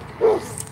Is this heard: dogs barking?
yes